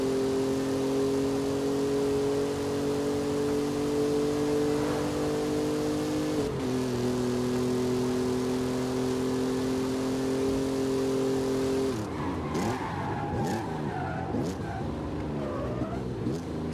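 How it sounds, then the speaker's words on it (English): A V6 twin-turbo engine in the Forza Horizon 5 racing game drones at steady revs with strong low harmonics, dips briefly, then breaks into a rougher, shifting rev near the end; loud and continuous, no talk. "Not the greatest sounding V6 twin turbo"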